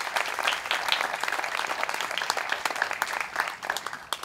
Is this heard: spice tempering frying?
no